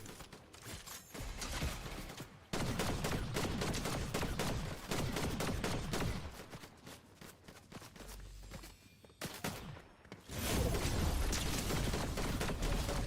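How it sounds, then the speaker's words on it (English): Gunfire from a video game shooter crackles in rapid bursts and volleys, close and loud, with short pauses between strings of shots and some clanking mechanical noise. "Who else was shooting at me?"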